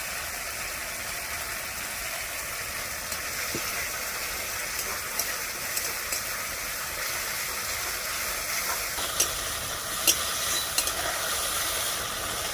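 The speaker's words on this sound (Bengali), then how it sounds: "মশলাগুলো আমার সব ভাজা হয়ে গেছে।" Spices frying in a pan with ghee, sour curd and garam masala powder in a home village kitchen, a steady soft sizzle with a few small pops and clicks, no voices.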